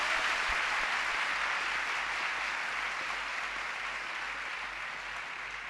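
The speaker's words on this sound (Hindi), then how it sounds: "If you are happy, clap your hands." An audience claps hands together in sustained, dense applause that carries steadily throughout, loud at first and easing slightly toward the end, with no talk over it.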